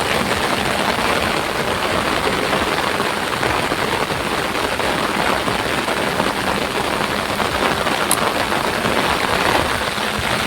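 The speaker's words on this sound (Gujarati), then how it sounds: "ગાઈસ ખતરનાક વરસાદ વરસેલો છે" A heavy downpour in the Gujarat countryside keeps up a constant, loud wash of falling water, a dense hiss with no pauses and no voices.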